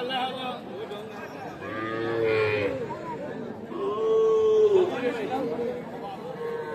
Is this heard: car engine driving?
no